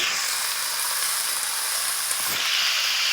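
Vegetables dropped into a hot pan for a winter spinach and prawn curry hiss and sizzle steadily, a loud continuous broadband fry with no talking.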